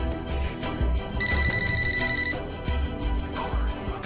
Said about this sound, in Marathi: हे बघा आला त्यांचा फोन.